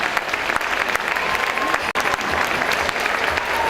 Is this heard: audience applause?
yes